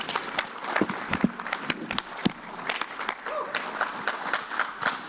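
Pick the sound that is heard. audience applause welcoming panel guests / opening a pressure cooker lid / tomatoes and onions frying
audience applause welcoming panel guests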